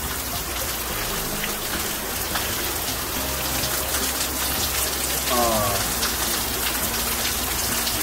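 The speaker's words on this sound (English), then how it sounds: "That's how heavy it is raining here." Heavy rain pours steadily in a dense, continuous hiss, loud and close, with a faint voice murmuring underneath.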